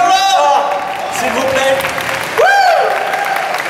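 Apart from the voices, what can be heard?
audience applause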